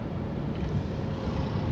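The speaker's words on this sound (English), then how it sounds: "Somebody out there on a nice little motorboat." A small motorboat runs out on the water just off a beach, its low engine drone blending with a steady wind rush over the full clip, constant and moderately loud.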